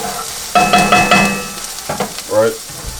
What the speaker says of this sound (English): So I got my onions right there. Just stir those up.